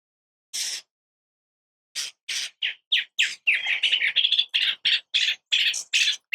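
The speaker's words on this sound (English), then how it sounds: "Oh my goodness, these birds. I don't even have trees, but they're up on these power lines." Birds perched on power lines above a backyard garden give one early call, then a dense run of sharp, close chirps and squawks in quick bursts.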